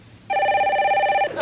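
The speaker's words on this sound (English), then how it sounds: "Guys, it's the phone." A landline telephone rings with one sustained electronic trill lasting about a second, loud and close, with faint room noise before it and no talking over the ring.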